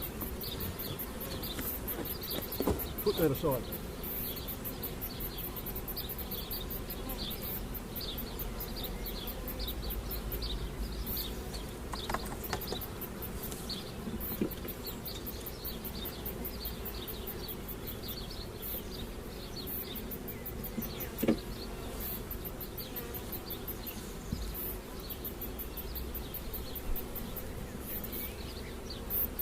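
Honey bees hum steadily around an opened hive during a nucleus colony split, a continuous close drone with occasional louder passes and brief handling noises throughout.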